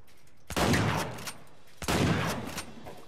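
Two sniper shots ring out in the Uncharted 4 video game set in Madagascar, each a sharp crack followed by a rolling echo, loud and separated by about a second and a half.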